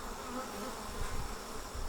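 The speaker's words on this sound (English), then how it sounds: "These bees don't care." Honey bees swarm around a red-painted hive and its landing board, a steady close buzzing drone with individual wingbeats rising and falling, no voices over it.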